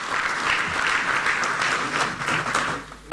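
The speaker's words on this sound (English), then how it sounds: "Please, another applause for these two speakers." Sustained audience applause for two speakers at an inter-parliamentary conference, dense steady clapping from a large hall that fades slightly before a sharp sound at the end.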